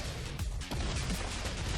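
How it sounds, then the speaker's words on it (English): An explosion in the video game RoboQuest, a dense, loud burst of crackling, rumbling blast noise that fills the whole clip with no break. "Ooh, I kind of walked right into that explosion."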